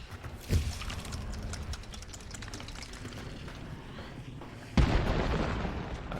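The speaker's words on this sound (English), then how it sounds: "Someone throwing in something explosive." Two sharp explosive booms in Hunt: Showdown, one early and a louder one later, ring out over a busy, crackling background of game noise.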